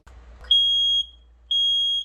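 A smoke detector sounds two long, loud, piercing electronic beeps in a steady on-off pattern, close by and alone.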